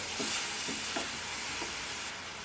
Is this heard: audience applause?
no